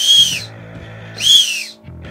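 Two loud, shrill blasts from a 3D-printed V29 whistle, each about half a second, separated by a brief pause, with some low rumbling handling noise between them.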